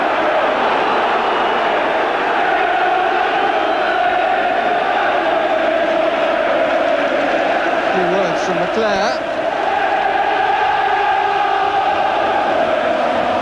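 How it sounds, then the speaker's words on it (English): Football crowd at an Oldham versus Manchester United match booing, a sustained loud roar of massed voices filling the stadium, steady throughout, with a commentator's voice briefly heard over it. "The boos are from the crowd."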